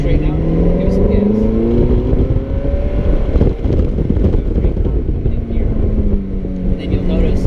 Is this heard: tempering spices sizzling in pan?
no